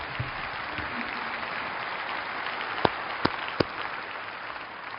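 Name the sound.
audience applause at debate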